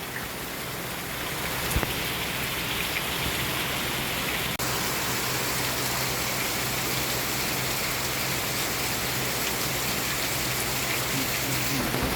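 Heavy rain falls in a dense, constant roar, a loud, unbroken wash of drops pouring down without a pause.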